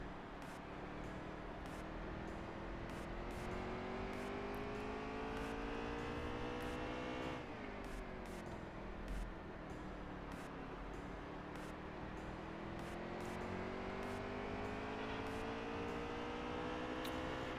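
Race cars from NASCAR Heat 3 drone continuously at high speed, engine pitch climbing and dropping through gear changes, loud and steady throughout.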